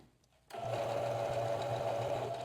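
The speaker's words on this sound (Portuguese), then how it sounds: "um pezinho de máquina, retrocesso no início e vamos costurar" A sewing machine starts up after a quiet moment and stitches a curved seam in fabric, a steady close whirring hum that runs on without pause.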